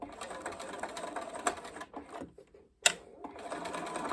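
A sewing machine stitches a dress collar up close in a fast, rattling run that stops briefly at a corner, then resumes for a final short burst.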